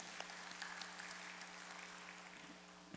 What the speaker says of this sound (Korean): 우리 격려의 따뜻한 박수를 보내주시면 좋겠습니다.